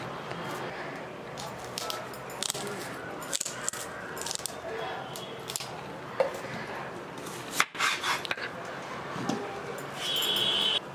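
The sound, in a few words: chopping beetroot finely with a knife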